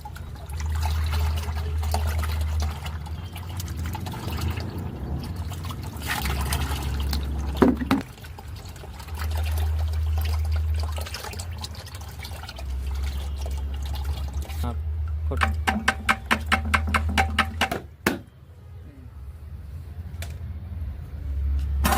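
Kitchen-waste soaking water poured from a container onto garden plants, heard in splashing, trickling bursts with pauses, near and moderately loud, over a low steady hum.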